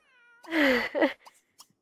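A cat in The Sims 3 Pets video game caterwauls in a drawn-out, wavering yowl, followed by a couple of shorter cries and faint trailing sounds, close and fairly quiet.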